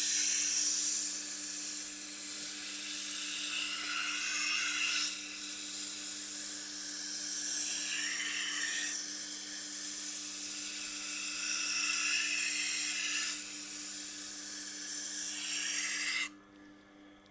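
A 320-grit dressing stone rubbed across a knife-sharpening wheel makes a steady, close abrasive rasp that swells and eases in long strokes over a low mechanical hum, stopping abruptly at the end.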